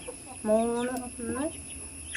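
A chicken gives a couple of drawn-out clucking calls close by, two bursts with a short pause between, over a quiet background hum.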